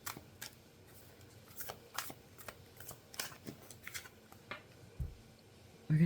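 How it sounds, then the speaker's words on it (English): Tarot cards are shuffled in quiet, irregular bursts of riffling and snapping close by, with short pauses between flurries and a soft thump at the end. "I am just going to shuffle a little bit more"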